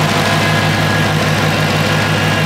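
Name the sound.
Dodge Hellcat engine idling with new cooling fan running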